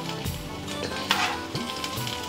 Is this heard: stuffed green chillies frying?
yes